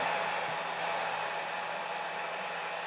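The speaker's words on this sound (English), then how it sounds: "then I'm going to turn my blow dryer on. This is going to be a little bit loud." A hair dryer blows steadily at close range to heat a nail wrap, a constant loud whooshing roar with no breaks.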